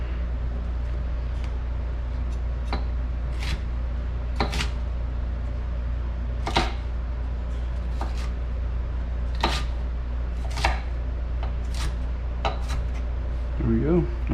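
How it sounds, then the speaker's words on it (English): Knife hitting a cutting board in sharp, uneven taps as vegetables for a vegan sweet potato hash are roughly chopped, over a constant low hum. "Just a rough chop, really."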